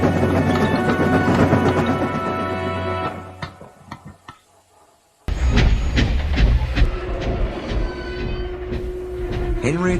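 A steam engine, Henry, pushing a stalled diesel into motion in the Sodor Online railway game: loud rolling rail rumble and rhythmic clatter, a brief lull midway, then heavy train noise resumes with chuffing and wheel sounds.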